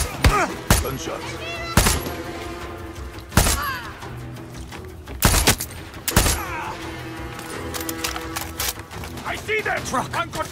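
Bursts of gunfire in Far Cry 6, with loud single shots and short volleys ringing out at irregular intervals over a busy game soundscape with clanks and voices.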